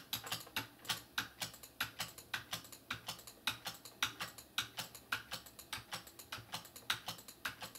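Rapid typing on a computer keyboard during a PC game, a dense run of sharp clicky keystrokes in an uneven rhythm, close and fairly quiet with no talking.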